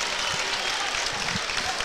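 A crowd at a high school basketball game gives steady applause as a player leaves the court, with a commentator's voice faintly underneath.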